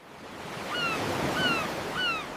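Sea waves at Haeundae Beach in Busan at sunrise, a continuous soft surf wash swelling and easing, with faint high cries drifting over the water.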